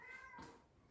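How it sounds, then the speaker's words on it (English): A single cat meows somewhere in an old Italian villa under renovation, one short, fairly faint, drawn-out call heard alone in a quiet room. "Definitely a cat. I heard a meow."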